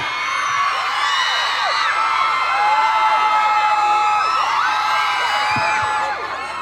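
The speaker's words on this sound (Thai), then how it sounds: "เสียงกรี๊ดดังเท่าไหร่เต้นแรงเท่านั้นนะ" A large crowd screams and cheers continuously at high pitch, loud and sustained throughout, with shrill whoops rising above the din.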